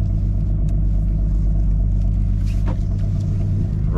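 Salvaged Porsche Cayenne Platinum idling with its exhaust removed, a loud, close, raw engine drone with a deep steady rumble and a rough, uneven throb, ending with a brief rise near the end.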